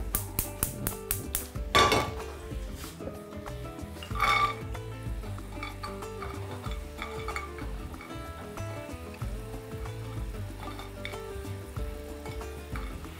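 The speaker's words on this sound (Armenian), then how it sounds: "Մինչ խնձորը տապակվում է, ընկույզը բովվում է," Walnuts being stirred and roasted in a pan, with rhythmic clinks and scrapes of a utensil against metal over a faint sizzle.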